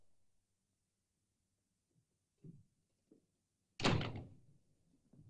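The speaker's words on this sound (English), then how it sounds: "Shut the door." A door is shut with one firm thunk that fades quickly, following a few faint footsteps and small knocks in a quiet room in a 1965 film.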